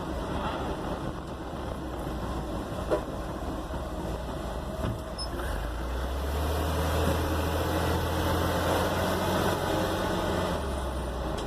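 A 1964 Corvair Greenbrier van engine idles steadily with a low rumble heard from inside the cabin, which shares the engine's compartment, rising slightly partway through; no talking.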